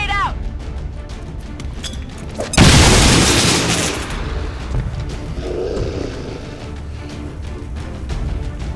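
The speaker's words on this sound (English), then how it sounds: "Grenade out!" A grenade explosion in XCOM 2: War of the Chosen, one loud sudden boom with a crashing burst that decays over about a second into rumbling debris, preceded by game sounds and a brief shouted voice line.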